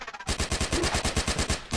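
Rapid automatic gunfire in the sci-fi shooter game Evolution, a fast, even rattle of close, loud shots fired in a continuous burst after a brief quiet start.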